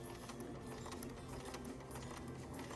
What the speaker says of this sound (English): we are going to begin sewing for about 1 inch